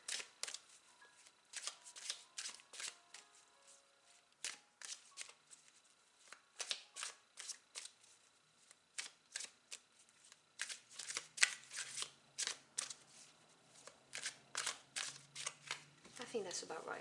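Tarot cards being shuffled in repeated quick riffling bursts, close and crisp, with a faint low hum in the background.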